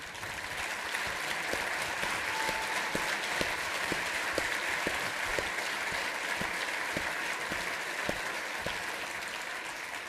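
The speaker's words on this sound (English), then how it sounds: "If you'd stand up and let us give you a round of applause." Applause from the audience at the 2022 Hilton Head/Bluffton Chamber of Commerce State of the Region event, steady dense clapping from a large room that carries on evenly for about ten seconds with no talking.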